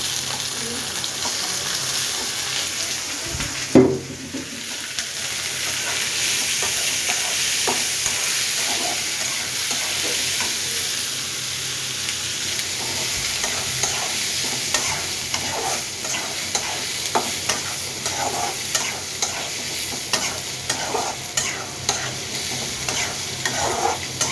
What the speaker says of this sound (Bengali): এখন আমি পেঁয়াজের সাথে শুটকিটা ভেজে নিব